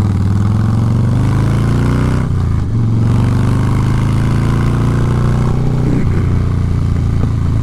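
A 2020 Harley-Davidson motorcycle engine runs loud and close with a deep, steady rumble and slight shifts in pitch throughout, with no voices.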